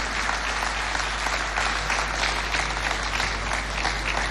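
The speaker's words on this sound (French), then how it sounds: "demander à mes sœurs d'applaudir pour encourager le président de la" Women applaud the president of Chad at an International Women's Day meeting: dense, steady clapping from a large crowd, loud and continuous throughout with no speech.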